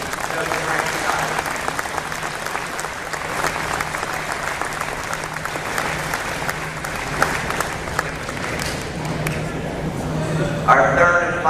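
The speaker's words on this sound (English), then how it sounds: "another round of applause for our second inductee, Coach Frank Schott" An audience at a high school wrestling hall of fame induction ceremony applauds a new inductee, with dense, sustained clapping from a crowd for over ten seconds and voices heard underneath.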